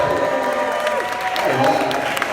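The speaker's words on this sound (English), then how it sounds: "make a round of applause for Patrick" Audience applause at a red carpet premiere event for Patrick, a short burst of steady clapping from a crowd with voices and cheering mixed in.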